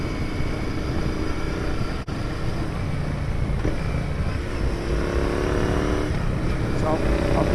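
A modified Royal Enfield Interceptor motorcycle on the move, its engine a steady, loud, continuous drone mixed with road and wind noise, and a voice talking over it.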